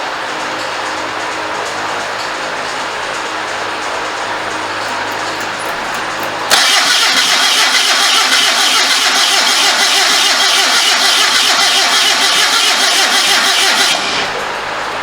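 Starter cranking on a homemade motorcycle trike powered by a 1974 Datsun engine, a steady mechanical churn for several seconds that suddenly jumps louder and brighter, running hard before dropping back near the end.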